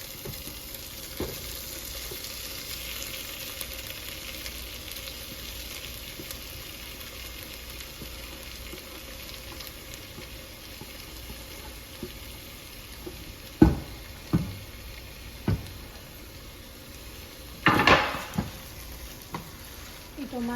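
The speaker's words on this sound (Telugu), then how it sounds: "టొమాటోస్ బాగా స్మాష్ అయ్యేదాకా, లైక్ జస్ట్ దీనిలోంచి గ్రేవీ అంతా వదిలించేదాకా దీన్ని కూడా ఇలా ఫ్రై చేయాలి మనం" Tomatoes frying in a pan to break down into a gravy for a cheese mushroom curry, giving a steady low sizzle throughout with a few louder stirring scrapes near the end.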